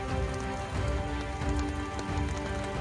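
Steady rain falls on surfaces in the Yamuna valley of Uttarakhand, a dense, even patter at moderate level with no breaks and no voices.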